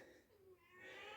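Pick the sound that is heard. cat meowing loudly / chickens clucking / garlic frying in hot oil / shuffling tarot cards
cat meowing loudly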